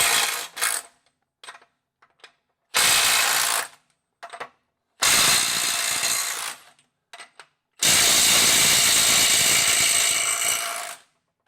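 Milwaukee M12 FUEL Gen 2 stubby impact wrench on an XC 5.0 high-output battery in mode 3, firing several loud hammering bursts of varying length, separated by short trigger blips and silence.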